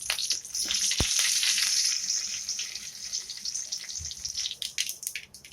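Mustard seeds and curry leaves crackle and sizzle in hot oil, a bright busy frying hiss with a sharp pop near the start that gradually thins out into scattered spatters, close and without talk.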